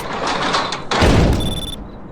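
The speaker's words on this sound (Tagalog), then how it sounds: "Try kong isara kasi may kumatok." A door swings shut with a heavy thud inside a shawarma kiosk in the horror game Shawarma Kiosk Anomalies, followed by a faint high electronic tone amid steady background hum.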